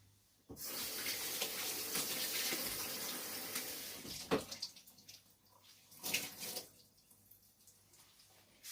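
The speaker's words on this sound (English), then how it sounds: "let me just wash my hands" A kitchen tap runs steadily into a sink while hands are washed under it, a continuous broad splash that breaks into irregular drips and spatters once the flow is cut and starts again.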